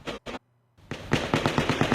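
Loud recorded gunfire from the Las Vegas shooting: two sharp shots, a brief near-silent gap, then a rapid automatic burst of about eight evenly spaced rounds, sounding close.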